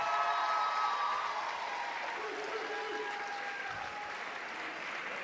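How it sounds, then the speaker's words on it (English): Audience applause for two class advisors at a school Decision Day ceremony, a steady wash of clapping from a large crowd that holds fairly even and fades slightly toward the end. "A round of applause for all the work."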